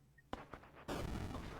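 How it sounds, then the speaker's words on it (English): Gunshot in the video game Mothmen 1966: a couple of short sharp cracks followed by a broader, louder blast that rings on briefly, fairly quiet overall. "You hear a shot and you fall backwards."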